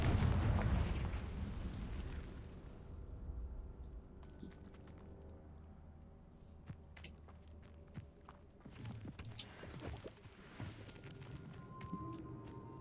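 A Confringo fire spell blasts in Hogwarts Legacy, a heavy booming explosion at the start that rumbles and fades, followed by quieter scattered game effects, clicks and footsteps.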